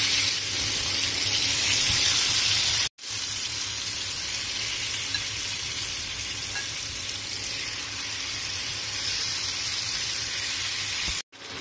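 Masala-stuffed lemon pepper chicken pieces sizzle steadily in a hot pan, a loud continuous frying hiss broken by two brief gaps as pieces are placed, with no talking.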